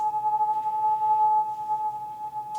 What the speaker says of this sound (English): I think it's the ambulance asking people to move.